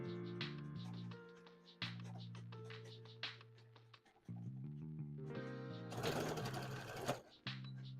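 An embroidery machine stitches faces in a steady mechanical whir with fast needle ticking, running continuously at moderate level and briefly louder partway through.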